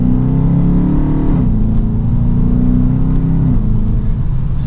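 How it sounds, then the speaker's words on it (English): A 2023 Dodge Charger RT Daytona V8 accelerating from inside the car, a loud deep engine rumble that climbs in pitch, drops briefly at a gear change, then climbs again. "You get to enjoy that V8 rumble."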